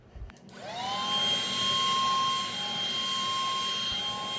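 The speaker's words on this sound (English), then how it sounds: "this little vacuum has got so much power behind it" A small USB-rechargeable handheld vacuum cleaner starts up and runs steadily. It gives a loud, continuous motor whine with a high pitched tone and no talk over it.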